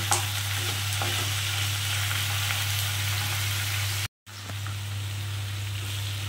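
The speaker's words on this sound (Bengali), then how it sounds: "আমি চিকেনগুলোকে একটু ভাজা ভাজা করে নিলাম।" Chicken pieces frying in a pan for chicken do pyaza, a steady dense sizzle with scraping stirs running throughout, loud and close, broken by a brief dropout near the end.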